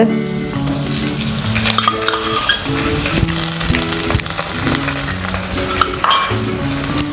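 Chopped onion frying for chicken curry, a steady close sizzle in the pan with stirring and occasional clinks of a utensil against the pan, alone without talk.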